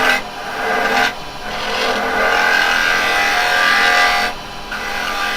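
Carbide chisel cutting into a wood workpiece spinning on a lathe, a steady, loud rasping scrape that runs almost continuously, with brief drops in intensity near the start and toward the end.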